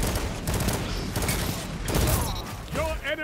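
Rapid gunfire rattles in a shooter video game in a dense, continuous burst of shots. A voice is heard near the end.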